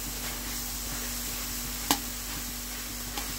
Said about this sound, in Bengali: আম্মু দুইটা শুকনো মরিচ ভেজে দিয়ে দিল